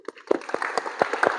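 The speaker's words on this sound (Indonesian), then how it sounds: "tepuk tangan dulu" A classroom group claps at the close of a lesson, a short, thin burst of separate handclaps, fairly close and uneven, with no talk over it.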